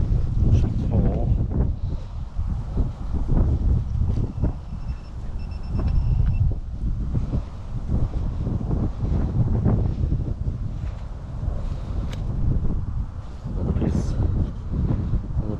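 Gusty wind buffets the microphone in an open farm field during metal detecting, producing rumbling low-frequency bursts that rise and fall throughout, with faint beeps from the detector and someone talking now and then.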